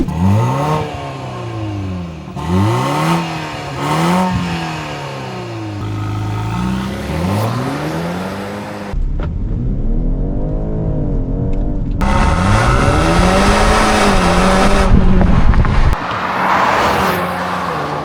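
Tuned 2020 BMW X3 xDrive30e G01 hybrid, Stage 1.5 with about 430 hp, accelerating hard through several gears: rising engine pitch sweeps broken by brief shift pauses, loud and close inside the cabin, with a whirring undertone and no talk.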